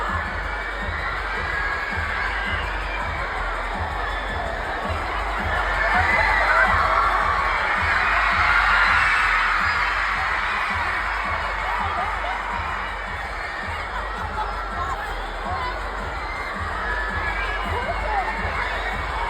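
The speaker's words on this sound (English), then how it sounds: "The crowd went crazy." A concert crowd at a Sturniolo Triplets event cheers and shouts excitedly, a dense, sustained roar of voices that swells midway and stays loud throughout.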